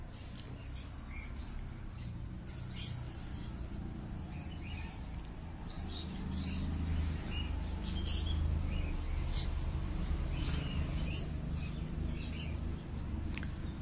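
Budgerigars chattering and chirping at a busy outdoor bird market, a constant layer of faint high twitters over low crowd rumble, with no clear speech.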